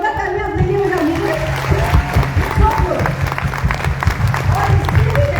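A seminar audience clapping loudly together, a dense steady roar of hands that fills the room and carries on throughout, with voices heard over it.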